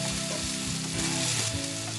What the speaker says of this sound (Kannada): ಕರಿಬೇವು, ಹಚ್ಕೊಂಡಿರೋ ಟೊಮೆಟೊ ಇಷ್ಟನ್ನು ಹಾಕಿಬಿಟ್ಟು ಲೋ ಫ್ಲೇಮಲ್ಲಿ ಚೆನ್ನಾಗಿ ಫ್ರೈ ಮಾಡಬೇಕು.